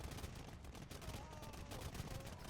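Massed gunfire from bombard cannons and hand cannoneers in an Age of Empires I deathmatch battle, a dense, continuous crackle of overlapping shots with low booms throughout, with no pauses.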